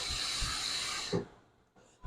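A steam pants press at a dry cleaner hisses loudly and steadily, then the rush cuts off with a soft thump and fades to a quiet room before a click.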